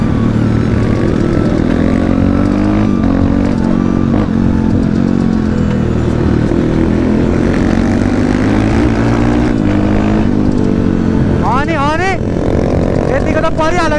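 Dirt bikes race on a dirt track, their engines droning loud and unbroken, with a rising whine near the end, while people talk over the noise.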